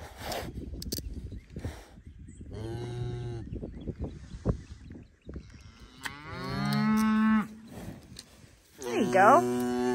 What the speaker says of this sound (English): She's got two heifers out here with babies.